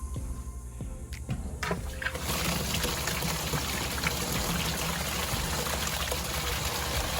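An aquaponics pump switches on and sends water pouring steadily into an aquarium, a soft trickle at first that swells into a continuous, close splashing stream with no talk.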